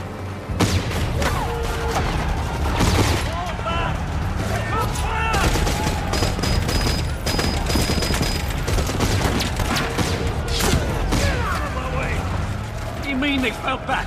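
Gunfire from an armed group in a 2003 film about Hitler: dense, loud volleys of rifle and machine-gun shots crackle continuously under shouted voices and commotion.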